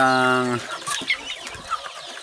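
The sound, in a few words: laying hens clucking on a chicken farm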